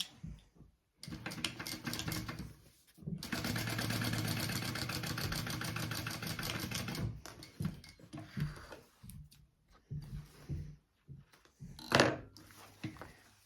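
A sewing machine top-stitches the card slots of a handmade bag, running in a steady rapid burst of stitching, then in short stop-start runs with pauses, nearby, no talk.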